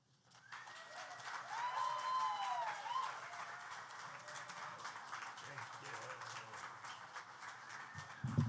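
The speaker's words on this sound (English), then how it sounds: "Another round of applause for Andrew Love, please." Audience applause for Andrew Love, a fairly faint, sustained patter of clapping that rises quickly and holds steady, with a few voices mixed in and a louder bump at the very end.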